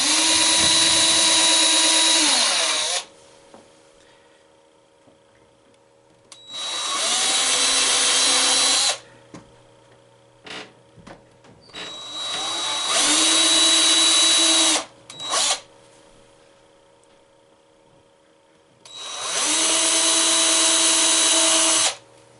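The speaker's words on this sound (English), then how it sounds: "try not to drill more than 1/2 inch" A power drill bores into a pinball machine playfield, running in four separate bursts of a few seconds each. Quiet pauses separate the runs, and faint clicks and handling noises fall between them.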